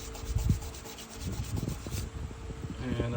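Sandpaper rubs back and forth over a wooden piece in close, uneven strokes, working from 400 toward 1,000 grit, with no talking.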